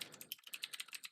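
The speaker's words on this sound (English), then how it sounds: "sorry for the mechanical keyboard" Fingers type quickly on a mechanical keyboard, a close run of crisp, clacky keystrokes in an uneven rhythm, heard alone with no talking.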